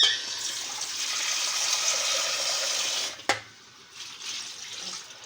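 Water from a tap pours steadily as something is washed, a loud hissing flow for about three seconds, then a sharp knock and a quieter, intermittent trickle.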